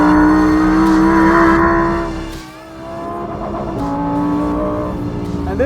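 A Lamborghini Huracan STO's engine howls at high revs on a race track, briefly drops away on a lift or shift, then climbs again into a sustained loud wail, with no talk.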